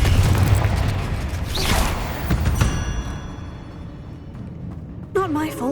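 Confringo fire spell blasts in Hogwarts Legacy, aimed at deadly great spiders in Aranshire: several booming bursts with crackling debris, a loud low rumble at the start and a bright impact near the end.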